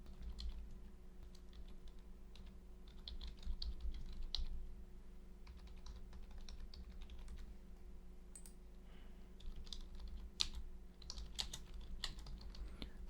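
Someone types on a computer keyboard while filling in an HTML web form, soft uneven bursts of key clicks and pauses over a faint steady electrical hum, quiet and close.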